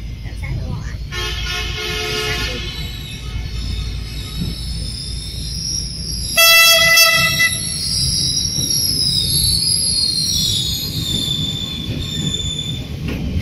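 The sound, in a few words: train arriving at Da Nang station, horn sounding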